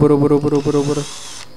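A small drill with a 1.5 mm bit whines at a high pitch under someone talking, then keeps spinning briefly alone before stopping abruptly.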